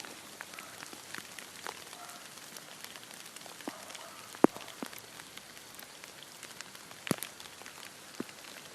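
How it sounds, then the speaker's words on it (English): Light rain patters on grass in a graveyard, a soft continuous hiss with scattered close drips and a couple of sharper taps, quiet and without voices. "I love the sound of rain as well"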